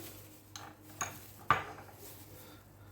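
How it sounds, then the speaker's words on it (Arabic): A plate of bessara, a traditional fava bean dish, is handled and opened with a few soft clinks and knocks of dishware, about three separate taps in a quiet room with no talking. "ونبتدي نفتح فيه كده اهو ونخليه قدامكم"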